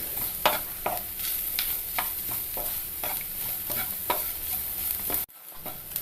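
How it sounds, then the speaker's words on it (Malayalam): Ground coconut spice paste sautéing in a pan for a Kerala banana-flower thoran, with a steady close sizzle and repeated spatula scrapes in an even rhythm that stop abruptly near the end, no voices. "ഈ അരപ്പ് ഒന്ന് നന്നായിട്ട് വഴറ്റിയെടുക്കണം"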